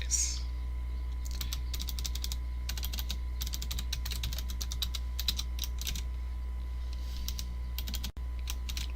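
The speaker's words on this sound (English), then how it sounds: "My typing is a little off today." Rapid typing on a computer keyboard while coding, a steady stream of close, crisp key clicks in uneven bursts over a low electrical hum, with no talking.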